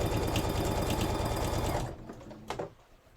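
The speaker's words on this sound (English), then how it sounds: "I'm going to stitch up this side" A sewing machine runs steadily as it stitches the side seam of a thrifted shirt being upsized, whirring loudly and close for about two seconds before stopping, followed by a few faint handling knocks.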